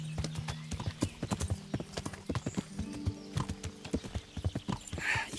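A horse's hooves clop at a quick, steady riding pace in the video game Kingdom Come: Deliverance, close and clear throughout.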